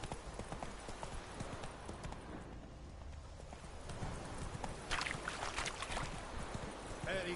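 Roach, the horse in The Witcher 3, galloping: a steady, fast, close clip-clop of hooves that continues throughout over a soft outdoor game ambience.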